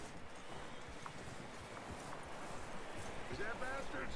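Horse hooves clip-clopping in Red Dead Redemption 2, a soft, steady patter of hoofbeats on the ground, faint and continuous under background game ambience.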